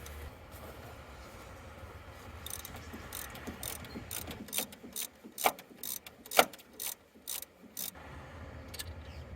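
Ratchet clicking with a 1/2 inch socket as it loosens the top alternator bolt on a 1998-2002 Toyota Corolla 1ZZ-FE engine, a run of sharp, close metallic ticks in uneven bursts, growing denser midway, with no talking.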